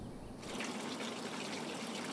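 Water in a hydroponic vegetable growing system flows in a steady, close trickle, starting faintly and filling in after a brief moment, then running continuously with no voices.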